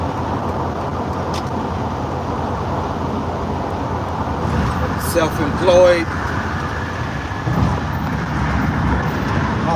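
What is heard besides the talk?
car driving in road traffic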